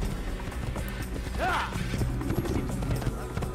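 Horse hooves clip-clopping at a steady trot during a countryside ride in the Assassin's Creed video game, with a brief whinny partway through and a voice talking over it.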